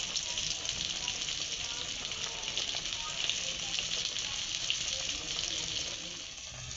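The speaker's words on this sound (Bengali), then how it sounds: "আমটাকে ভালো করে ভেজে নেব।" Raw mango pieces fry with spices in a pan for a sour fish curry with mustard paste, giving a dense, even sizzle that holds steady throughout and eases slightly at the end.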